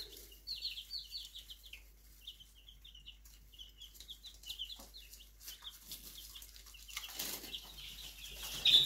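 Chicks and a young rooster peep rapidly and repeatedly in high, thin chirps close by, with short bursts of wing flapping and rustling building toward the end.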